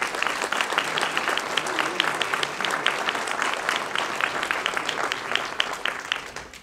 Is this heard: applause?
yes